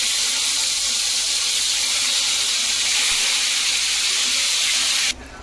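Chicken pieces frying in hot butter and oil, a steady loud sizzling hiss that carries on without a break and drops away abruptly at the very end.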